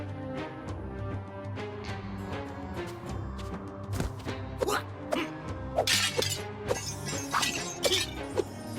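Breakable objects shatter and crash as they are smashed in the Hotel Transylvania video game, a series of sharp, bright breaking bursts over steady background game music.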